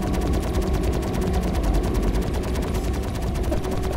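Rapid automatic gunfire in the Star Citizen video game, a steady loud stream of evenly spaced shots running unbroken for the whole stretch with no talking over it.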